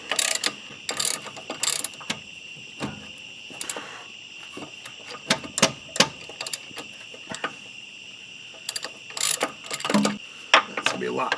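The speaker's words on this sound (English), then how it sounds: "I can use the ratchet on this one" Ratchet working a starter bolt on an OBS GMT400 pickup with a small-block V8, giving bursts of quick clicking pawl strokes in irregular runs with pauses, close and fairly loud.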